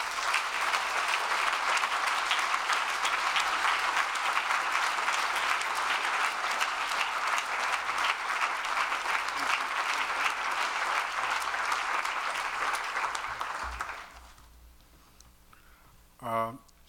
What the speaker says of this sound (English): Let's give our warmest applause to Ed Roberson